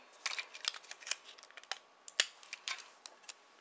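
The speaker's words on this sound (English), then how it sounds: "you want to cut off as close as possible without actually hitting the knot" Scissors snip a piece of string close to the knot while crafting a paper iPod-and-headphones valentine, a quiet series of sharp, irregular cuts with small handling rustles between them.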